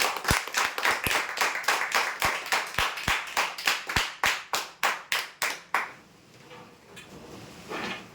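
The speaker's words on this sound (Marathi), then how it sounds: "जोरदार टाळ्या होत्यांसाठी" Applause for prize winners at a weekly lucky draw: about twenty sharp, evenly spaced claps in a steady rhythm, close and loud, then stopping abruptly and leaving quiet room tone.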